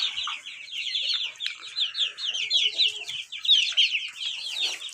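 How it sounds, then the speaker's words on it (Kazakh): Newly hatched Australorp chicks cheep nonstop in a busy, high-pitched chorus of overlapping peeps, close up and steady. "Австралорд деген порода"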